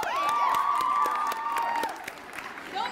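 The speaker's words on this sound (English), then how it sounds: "Let's give a big round of applause to our winners, Wesley, and to Shake Rag." A small audience claps and cheers for mock trial winners, sharp individual claps mixed with a high excited shout or whistle that fades, lively and fairly close, tapering off toward the end.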